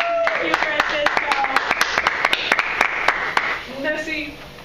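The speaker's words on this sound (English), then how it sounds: "give him a round of applause" A studio audience claps and cheers for a talk-show guest, a dense run of sharp handclaps with a whoop over steady crowd noise, fading as a voice begins to speak near the end.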